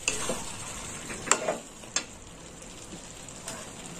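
Chicken cooked with banana flower sautés in a pan, a faint, steady sizzle with a few light clicks and scrapes of stirring, and no talk.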